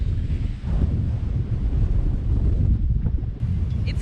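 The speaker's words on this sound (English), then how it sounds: "taking shelter from this wind, casting 35 knots of wind" Strong 35-knot wind buffets the microphone at a boat mooring field in the Bahamas, a continuous loud low roar with gusty surges and faint water slapping beneath, no voices.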